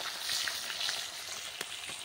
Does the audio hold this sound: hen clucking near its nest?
no